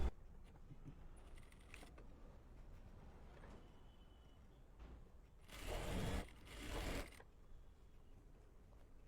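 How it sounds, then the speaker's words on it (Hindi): A sewing machine stitches a salwar belt in two short bursts of rapid mechanical whirring, close and moderately loud, separated by quiet handling sounds and small clicks of fabric being adjusted. "तो सबसे पहले हम इसमें बेल्ट जोड़ लेंगे। तो ये हमारा सेंटर है, यहाँ से इस तरीके से रखना है और राउंड में सिलाई लगाएंगे अब हम।"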